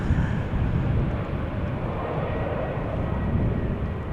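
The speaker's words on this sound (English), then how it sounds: "Ooh, flyby from Russell." A fixed-wing airliner passes close by in crosswind conditions at Amsterdam Schiphol Airport, its broad, steady jet roar loud and sustained throughout with no talk.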